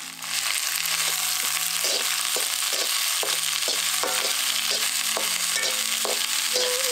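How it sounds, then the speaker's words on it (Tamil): Shallots, two green chillies and curry leaves sautéing in oil for a banana-leaf fish dish, a loud continuous sizzle punctuated by a regular series of spatula knocks and scrapes against the pan. "இப்ப கொஞ்சம் எண்ணெயை ஊத்தி 300 கிராம் சின்ன வெங்காயம், 2 பச்சை மிளகாய், கொஞ்சம் கறிவேப்பிலை, இதெல்லாத்தையும் சேர்த்து நல்லா வதக்க ஆரம்பிச்சிடலாம்"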